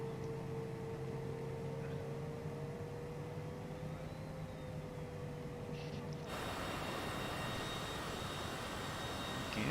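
A Cessna Citation CJ4 jet takes off in Microsoft Flight Simulator 2020. A steady engine whine and low rumble swell partway through into a louder, fuller roar that holds to the end.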